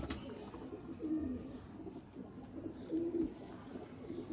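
Teddy pigeons coo in low, soft bursts at a rooftop loft, two clear coos with a steady murmur of other birds behind them and no talk.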